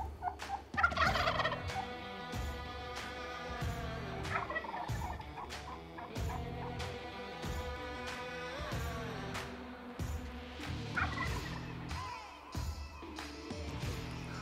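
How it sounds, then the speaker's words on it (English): Repeated gobbling calls from several turkeys, some near and some farther off, over a steady busy background with rhythmic clicking. "the other group of turkeys that you can hear coming in behind me and to my right"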